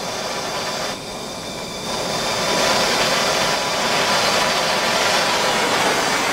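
A torch flame roars steadily while heating a copper pipe for soldering, a broad hissing rush that swells louder partway through and holds, with no talk over it.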